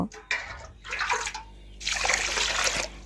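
Cloudy, starchy water from rinsing rice is poured out of a bowl, splashing and pattering close by in several short, uneven gushes.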